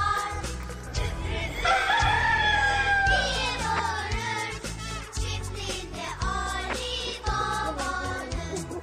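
Roosters crow loudly and drawn-out, several calls overlapping and repeating close by, with clucking hens and farmyard noise underneath.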